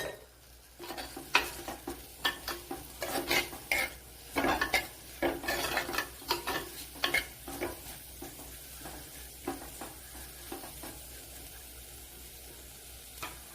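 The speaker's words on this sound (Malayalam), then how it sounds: "ഇതിലേക്ക് പെട്ടെന്നൊന്ന് വയണ്ടിയിട്ട് കുറച്ച് ഉപ്പ് ചേർത്ത് കൊടുക്കുക" Sardine curry ingredients being sautéed in a pan with salt give a fairly quiet sizzle, broken by repeated scraping and clinking spoon strokes against the pan at an uneven rhythm.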